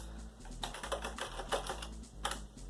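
Computer keyboard keys tapped in quick, uneven bursts while steering the racing game South Park Rally, a steady clatter of close, fairly quiet clicks over a faint background hum.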